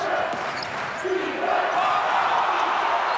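A basketball arena crowd at a college game shouts and cheers in a loud, swelling roar, growing slightly through the moment, with a commentator's voice faintly under the noise.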